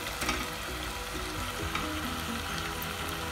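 Half a kilo of bone-in chicken pieces fry with softened onion and tomato in a pan, giving a loud, close, continuous sizzle with faint crackles and no talking.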